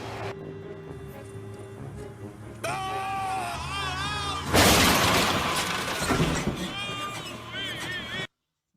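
A car crashes in a played television show clip, a loud burst of shattering impact noise midway, preceded by engine and tire squeal tones and followed by lingering squeals before the sound cuts off abruptly.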